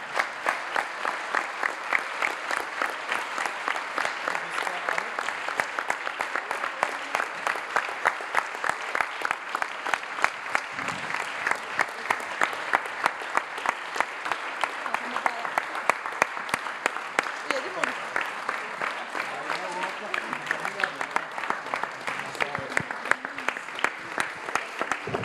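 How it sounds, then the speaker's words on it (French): Sustained applause from a sizable audience at a closing event, dense and steady clapping throughout, with a few indistinct voices mixed in. "on va tous se lever et les applaudir très fort"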